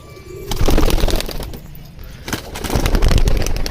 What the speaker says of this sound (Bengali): তো এগুলা সেই টেডি পায়রা